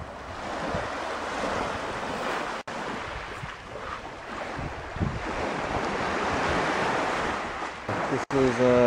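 Ocean waves washing onto a rocky Vancouver shore, with constant surf wash and gusty wind buffeting the microphone, steady and fairly loud; a voice can be heard faintly in places.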